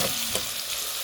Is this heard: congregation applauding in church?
no